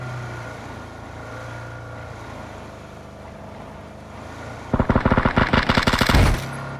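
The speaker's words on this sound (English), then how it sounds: "It's already gunfire." Rapid automatic gunfire in PlayerUnknown's Battlegrounds bursts out loudly, a fast rattling string of shots lasting under two seconds, over a steady engine drone that plays alone beforehand.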